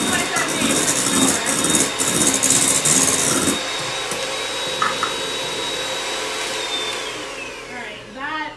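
An electric mixer whips egg whites to stiff peaks for a cheese soufflé, loud and whirring for a few seconds before dropping to a quieter run, with a brief voice over the noise at the start.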